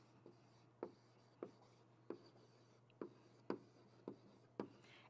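Writing strokes during a first-grade reading lesson, about seven distinct scratching marks at a steady pace, close and fairly quiet over a low steady hum, with no talking.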